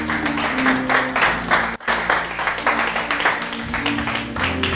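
A church congregation breaks into sustained applause, dense clapping from many hands rolling steadily for several seconds, with a soft murmur of voices and music underneath.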